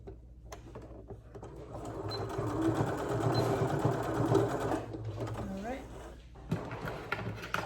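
Sewing machine stitching a fabric ear saver for a face mask, a steady mechanical whir of needle strokes building for several seconds, then stopping, with some handling clicks and a voice speaking nearby.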